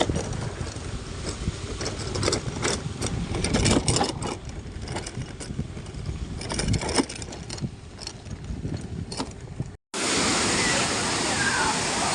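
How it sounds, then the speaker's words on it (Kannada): Aramane Falls, a waterfall near Kalasa reached by an off-road track, roars as a steady broadband wash of falling water for most of the stretch, with a brief cut before it resumes loud and continuous. "ಅರಮನೆ ಫಾಲ್ಸ್ ನೋಡಿ ಹೇಗಿದೆ"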